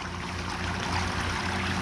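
Water streaming and trickling steadily through a hot tub's jets as a diverter valve is turned to shut off flow to one side, a continuous close rushing wash with a faint low hum beneath.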